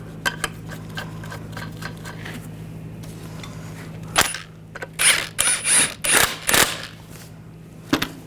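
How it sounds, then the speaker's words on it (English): Metal lug nuts being spun and threaded by hand onto the wheel studs of a 2014-2018 GMC Sierra pickup, a series of short clicks and rattles followed by louder clustered metallic scrapes and clanks close by, with no talking. "Now put the wheel on. Get the lug nuts started."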